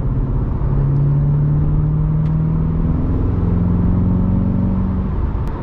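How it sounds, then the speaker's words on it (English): Chevrolet C8 Corvette with its factory performance exhaust, a steady loud low engine drone and rumble holding throughout, with a slight rise in pitch midway, heard alone on a rainy day. "now after actually owning the car with the factory performance exhaust, this is a really good exhaust"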